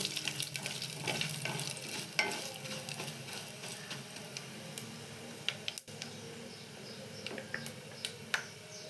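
Cumin seeds fry in a pan with a faint, continuous crackle. Small sharp pops and ticks are scattered through it, and there are occasional soft stirring sounds.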